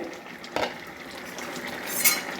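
A metal lid comes off a pot of Barisal-style shol fish cooked with radish: a soft clunk, then a bright metallic clink near the end, over a low steady background hiss.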